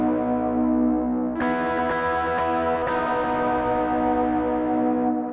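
Electric guitar riff through effects, the interlude into the bridge of a worship song: a few distorted, echoing picked notes ringing over a sustained chordal wash, loud and alone.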